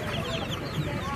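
Chickens cluck at a poultry market in Dois Riachos, Alagoas, a dense, continuous babble of hens close by with a bustling crowd murmuring underneath.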